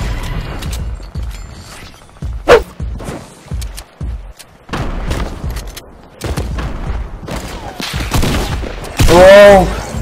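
Shotgun gunfire in Fortnite Mobile, several sharp loud blasts and gun mechanism clacks in bursts among game effects, close and punchy, with someone speaking Thai over parts of it.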